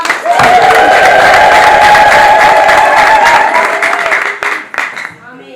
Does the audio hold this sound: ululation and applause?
yes